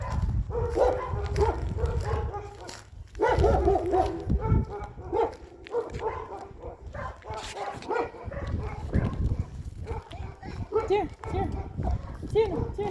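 A guard dog kept to watch over livestock barks in short bursts, scattered across a busy outdoor scene with hoof clip-clops and near, almost constant talking.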